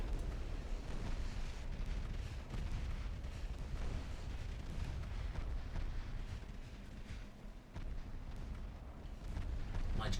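Battleships fire armor-piercing shells in the naval strategy game Ultimate Admiral Dreadnoughts: a steady, dense roar of heavy booming gunfire and rumbling explosions fills the whole stretch without a break.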